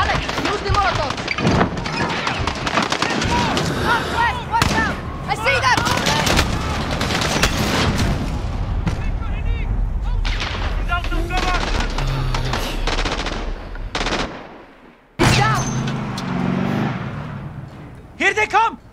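Call of Duty Modern Warfare firefight with sustained close, loud automatic gunfire and heavy blasts, consistent with mortar fire, running almost continuously before a brief lull and renewed shooting; voices shout over the din.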